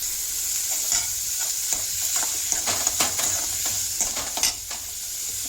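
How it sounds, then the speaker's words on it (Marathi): Onions with cumin frying in a pan while being stirred, steady close sizzling overlaid with a series of quick scraping strokes of the spoon against the pan. "याच्यामध्ये हे कांदा आता हलवून घेते"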